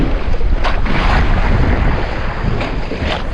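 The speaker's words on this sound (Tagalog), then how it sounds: "Mahangin." Strong wind roars and buffets the microphone aboard a small fishing boat off Cavite, Philippines, a loud continuous rumble with faint gusty swells and no talking.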